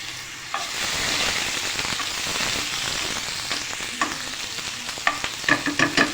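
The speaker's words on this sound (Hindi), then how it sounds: "लहसुन अदरक के पेस्ट को हमने साथ साथ फ्राई करना है" Garlic ginger paste frying with chopped onions and green chilies in a hot pan for a potato and chana dal curry, giving a steady close sizzle with stirring scrapes and sharper spatters toward the end.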